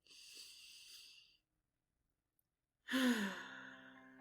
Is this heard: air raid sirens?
no